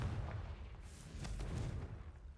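A Confringo blasting spell goes off in a Harry Potter video game as a faint, muffled explosion, with a few soft bursts over a low rumble.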